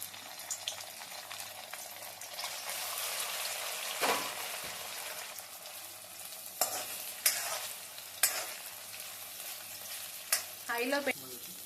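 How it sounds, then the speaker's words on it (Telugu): Egg cubes frying in two spoons of hot oil on a stove, a steady broadband sizzle with scraping stirs and a few sharp spatula knocks against the pan, close and continuous with no talk. "ఇప్పుడు మనం కట్ చేసి పెట్టుకునే క్యూబ్స్ని ఫ్రై చేసుకుందాం"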